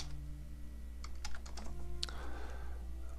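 Keystrokes on a computer keyboard, a quick run of separate clicks followed by a denser burst, close by over a steady low hum.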